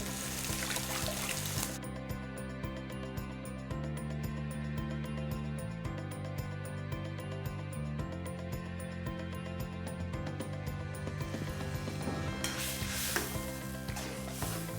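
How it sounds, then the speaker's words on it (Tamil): Steady loud sizzling of tomato kurma in a hot pan as water is poured in, the frying hiss and bubbling continuing throughout with a brief change near the start. "இதில் தண்ணி அலசி அதில் ஊற்றிடலாம்."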